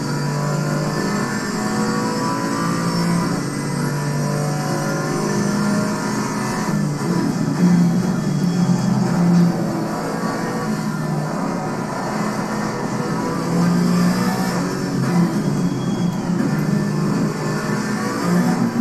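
A GT4 race car engine in Assetto Corsa Competizione, running steadily loud and near with sustained revving and slight pitch shifts, no talk over it.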